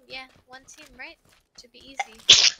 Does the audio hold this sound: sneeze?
yes